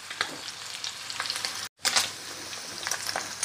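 Paneer cubes frying in oil in a pan for a restaurant-style paneer korma, a steady close sizzle with crackling pops, briefly cut to silence midway before the sizzle resumes.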